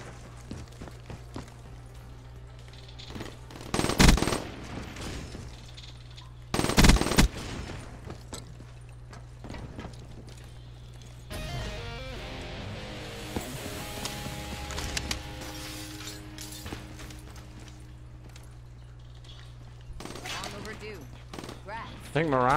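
Gunfire in an arena search-and-destroy online shooter match comes as two loud short bursts a few seconds apart, followed by quieter rattling, footsteps and scattered shots over a constant low hum.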